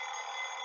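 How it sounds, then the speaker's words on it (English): Alarm clock ringing in a video game, a brief, loud, continuous electronic bell tone lasting under a second with no talk. "I groped around for the clock and turned the loud alarm stop"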